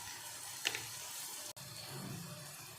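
Onions sizzle gently in a pan of hot oil left over from frying eggs for a ridge gourd egg curry, a soft, continuous crackle with a brief stir partway through.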